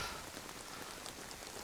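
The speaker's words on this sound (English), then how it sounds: "while it's raining and people aren't running around" Rain falls steadily in DayZ on the Livonia map on PS5, a dense, even patter of drops on surfaces, soft and continuous with no voices.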